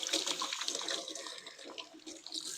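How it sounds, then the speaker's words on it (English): Tap water running steadily into a kitchen sink while a hand is rinsed during cooking, a continuous close splashing hiss with slight fluctuations, no talking. "I'm going to rinse my hand off real quick"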